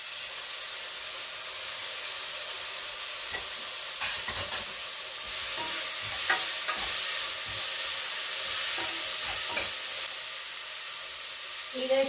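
Chopped vegetables and greens going into a pot of sprouted-lentil sambar and being stirred, with a steady sizzling hiss and scattered soft scraping and clinking from the stirring, close and continuous.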